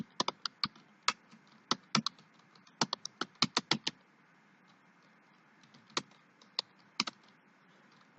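Keys clack on a computer keyboard as text is entered into a search box of a C# mobile shop management program, in quick irregular bursts of close, crisp taps separated by short pauses.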